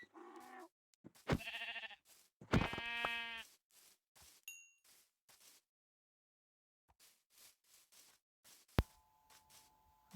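Several loud, wavering Minecraft sheep bleats in the first few seconds, then quieter clicks and soft thumps, and a steady electronic tone near the end.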